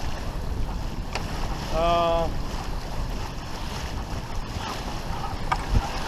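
A sailboat under sail in open water on Lake Huron, steady wind rush and water wash around the hull, with a brief tonal creak or whine in the middle and faint knocks, no speech.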